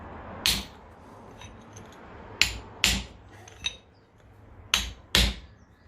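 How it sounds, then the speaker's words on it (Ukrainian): A hammer strikes a chisel to knock out a front wheel bearing on a Daewoo Lanos or Nexia: six sharp metallic blows in uneven succession, close and loud over a quiet background, with no speech. "Все с помощью молотка и зубила."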